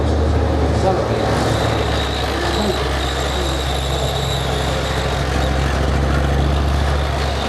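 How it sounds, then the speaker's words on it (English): A tank's heavy MTU diesel engine rumbles steadily with a deep, loud low-end exhaust roar, revving slightly as it accelerates, with a faint voice underneath. "That rumble of that thumping great MTU diesel engine in the back there"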